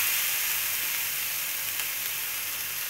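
Onion frying in a pan gives off an even, moderate sizzle and hiss that holds steady throughout, with no stirring strokes and no one speaking.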